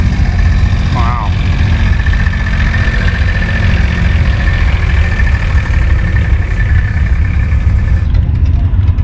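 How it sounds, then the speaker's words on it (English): Old Allis-Chalmers CA farm tractor fitted with a two-row cultivator idles steadily nearby at an outdoor antique machinery show, a loud continuous low rumble with faint background noise throughout. "Nice Allis CA"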